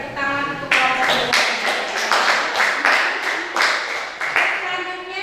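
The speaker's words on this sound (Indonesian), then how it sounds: "berikan tepuk tangan untuk kelompok ini" An audience claps for a presenting group in a classroom, a close burst of irregular hand claps lasting several seconds with a faint voice before it begins.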